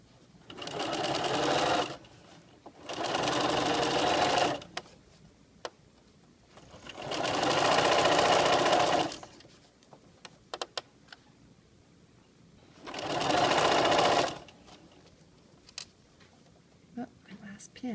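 A home sewing machine stitching an invisible zipper, with the presser foot moving toward the slider. It runs in four steady bursts of a couple of seconds each, separated by pauses holding faint clicks and handling noise.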